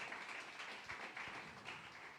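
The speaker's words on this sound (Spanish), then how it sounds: "Dale ese fuerte aplauso al Rey de Reyes y Señor de Señores." Faint, scattered applause from a church congregation during a Spanish-language service, with a steady wash of clapping and a few sharper, louder taps standing out.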